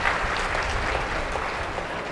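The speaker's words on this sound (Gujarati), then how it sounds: "એક વખત તાળીઓના ગડગડાટથી વધાવશું" An audience breaks into sustained, even applause to welcome guests at a motivational speaking event, a dense steady patter of many clapping hands with no voices over it.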